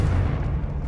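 Confringo spell explosion in Hogwarts Legacy: one loud, deep booming burst that rumbles briefly and fades, heard alone.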